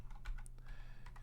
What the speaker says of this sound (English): please forgive the typing. I got a Kinesis Advantage 360